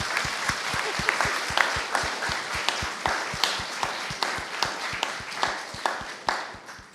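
Conference audience at a Latin Mass Society faith and culture event giving steady applause, a dense wash of many hands clapping with regular sharp peaks, moderately distant and alone.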